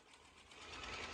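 An embroidery machine stitching a placement outline for an in-the-hoop Valentine ornament, a fast, steady mechanical chatter of needle strokes that swells slightly louder, heard close and alone.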